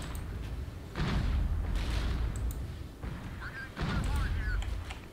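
Gunfire in the multiplayer war game Regiments comes in loud booming bursts with a steady din of battle behind, while people talk over the action.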